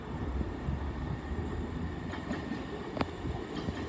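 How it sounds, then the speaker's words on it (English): A GWR Class 158 diesel train passes through St Denys station on platform 2, a steady rumble of wheels on rails with a few sharp metallic clicks and squeals over the running noise. "it's coming through on platform 2, as it's gone via Southampton Airport Parkway in Eastleigh, formed of a GWR 158."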